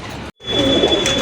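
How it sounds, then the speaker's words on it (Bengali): A pair of chila pigeons coos at close range, soft low throaty calls over a constant hum, broken by a brief silent gap early on. "আরেক জোড়া কবুতর, এটা হচ্ছে এক জোড়া চিলা কবুতর"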